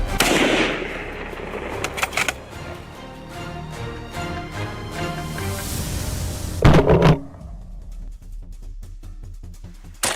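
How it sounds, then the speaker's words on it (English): Bursts of gunfire crack out repeatedly over a dense, rumbling battle din, with a loud close blast before quick sharp shots trail off. "The thunderous crack of gunfire shattered the silence."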